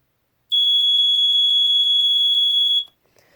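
An early Sears smoke alarm, model 246.57313, blares a single high, steady electronic screech for a little over two seconds before stopping abruptly, followed by faint handling noise.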